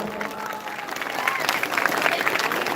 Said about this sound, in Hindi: जोरदार तालियों से स्वागत कीजिए हमारे समस्त अतिथियों का।